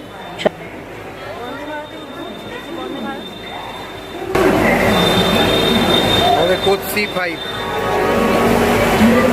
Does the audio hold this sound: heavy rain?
no